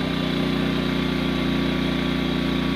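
A 2000-watt A-iPower portable generator runs at a steady idle, its small engine making a loud, even, continuous drone with a constant buzzing hum throughout.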